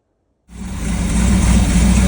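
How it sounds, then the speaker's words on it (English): A 1986 Sea Ray Pachanga 454 boat engine starts up and settles into a loud, close, steady rumbling idle with a deep low drone, no talking. "Got the engine running for about a minute, just mixing that fluid in there."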